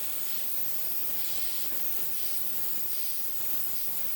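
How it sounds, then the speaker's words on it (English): A welding torch hisses steadily while annealing a tack weld, a continuous broad rushing hiss held at an even, fairly faint level throughout with no talk. "I'll anneal the other tack weld."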